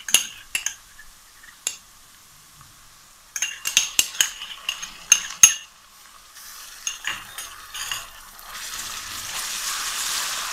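Garlic sizzles in a pan with onions while a utensil stirs and clinks against the metal, giving sharp intermittent scrapes and taps over a soft frying hiss that grows steadier toward the end.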